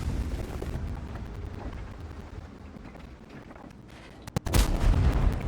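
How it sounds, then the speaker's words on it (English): Artillery fire in a tank video game: a low rumbling stretch, then a sudden loud blast followed by a heavy booming impact near the end. "Artillery. The only thing I needed at this point."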